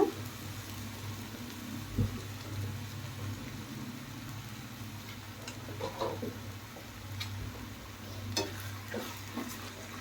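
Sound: tomatoes being sautéed with salt in a pan

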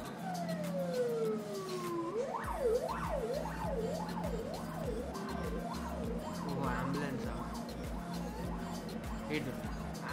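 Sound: ambulance siren in a video

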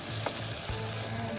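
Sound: stirring catfish curry with bean seeds frying in a pan

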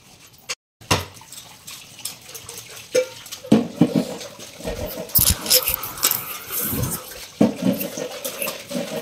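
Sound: washing dishes under running tap water

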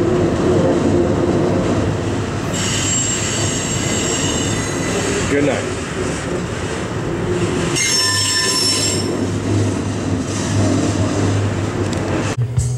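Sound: freight train passing over bridge with squealing wheels

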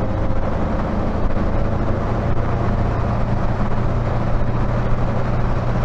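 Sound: Triumph Dolomite Sprint car sliding around in second gear

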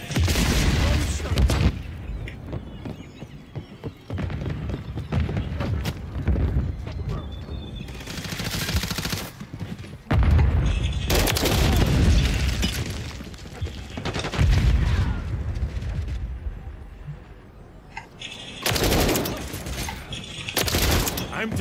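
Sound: gunfire in a shooter video game

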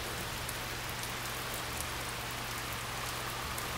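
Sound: rain falling in a video game

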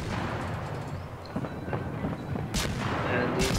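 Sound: torpedoes being launched from a destroyer in World of Warships video game

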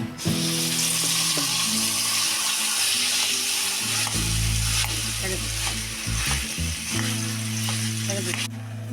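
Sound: boiled olives frying in hot oil

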